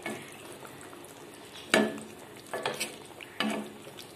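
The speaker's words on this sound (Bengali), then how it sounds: "একটু নাড়িয়ে ছাড়িয়ে দিই মাছের উপর, মাছগুলোর মধ্যে যাতে গ্রেভিটা একটু ঢুকে যায়।" Fish curry gravy stirred in a pan, a few separate scraping, clinking stirs over a faint background hiss, fairly close and moderately loud.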